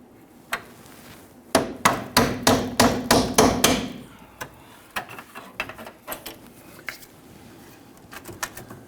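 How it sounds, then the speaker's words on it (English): Hammer striking a punch to drive a pin through on a 2007-2021 Toyota Tundra 4.7L V8 fuel tank strap, a sharp metallic rapid burst of about eight taps followed by sparser single knocks, close and alone. "we're going to use our hammer to go ahead and try and tap this pin through"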